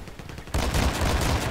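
Spas-15 shotgun fired in a video game: after a brief quieter lead-in, a sudden loud blast bursts in, followed by dense, sustained gunfire noise.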